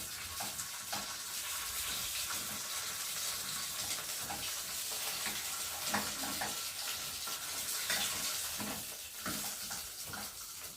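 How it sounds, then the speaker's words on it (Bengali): Rohu fish heads frying in hot oil, a dense continuous crackling sizzle, fairly quiet and steady throughout with no voices. "মাথাটা আগে ভেজে নেব"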